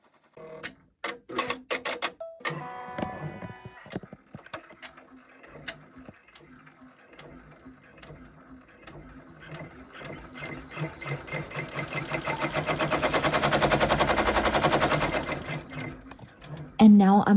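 An embroidery machine stitches the tack-down outline on all four letters of a mama appliqué design, a steady rapid mechanical chatter that starts after a few knocks and swells louder toward the end.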